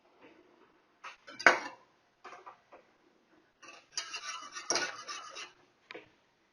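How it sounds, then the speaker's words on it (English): Spoon stirring vegan meltable cheese in a pot, with scattered scraping clinks of metal against the pan in short bursts separated by pauses, close and fairly quiet. "We'll keep on stirring that occasionally."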